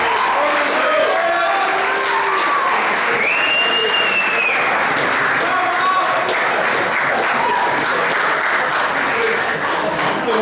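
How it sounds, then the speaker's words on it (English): A crowd at an awards night applauds for a named guest, a broad continuous wash of clapping with scattered whistles and voices mixed in, loud and sustained from start to finish. "Round of applause for Anderson, please."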